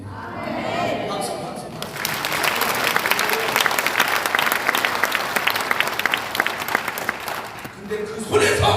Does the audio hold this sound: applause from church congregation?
yes